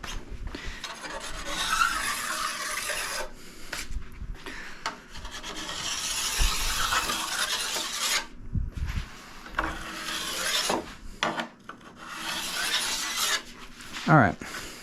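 Hand ski tuning tool rubbed along a ski base for polishing, long raspy scraping strokes close up with short pauses between passes, plus a sharp scrape near the end.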